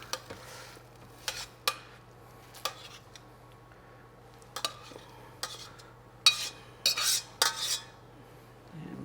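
A metal spoon scrapes and clinks against cast iron bowls while fruit crumble filling is spooned in, scattered close scoops and taps over a low steady kitchen hum, with no talking.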